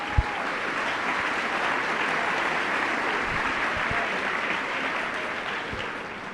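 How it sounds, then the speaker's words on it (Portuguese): A church congregation applauds steadily after a Bible reading, a dense, even wash of clapping from many hands that continues at a constant level throughout. "dá uma salva de palmas para a palavra do Senhor"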